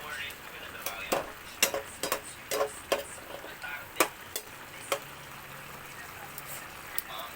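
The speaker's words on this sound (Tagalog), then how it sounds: "Tapos haluin natin ulit." A spoon stirs chicken estofado with potatoes in a pan, giving a run of light clinks and scrapes that thin out toward the end, over soft low sizzling.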